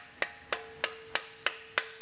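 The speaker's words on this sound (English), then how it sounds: "I'm going to tap that on with my piston hammer" A piston hammer taps a titanium valve retainer on a 2JZ engine in six sharp, evenly spaced metallic knocks, each ringing briefly, close and clear.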